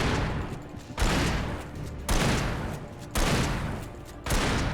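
Four heavy shotgun blasts go off in the video game Alan Wake, evenly spaced about a second apart, each a loud sharp crack trailing into a rumbling decay.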